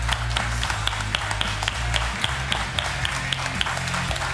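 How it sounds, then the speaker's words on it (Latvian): Audience applause at a televised karaoke championship, a dense, steady wash of many hands clapping continuously, with low music or crowd tones underneath. "Ar aplausiem lūdzu."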